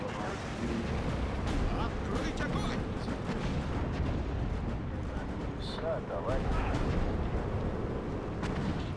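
Continuous rumbling barrage of artillery booms and blasts from a Steel Division 2 battle, dense and loud throughout, with a voice talking over it.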